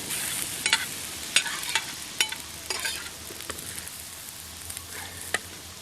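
Curry with slices of raw, unripe mango cooks gently in a pan on a beach in Kerala, a soft continuous bubbling sizzle broken by several sharp clinks and scrapes of stirring, with no talking.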